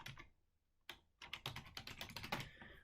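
Typing on a computer keyboard, close and fairly quiet: a couple of isolated key taps, then a quick run of rapid keystrokes in an irregular rhythm, with no voices.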